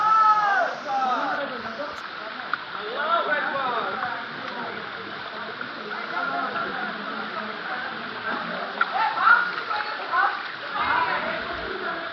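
A hillside waterfall, reached after a slippery forest trail, splashes and rushes in a constant wash of water while people talk loudly over it throughout.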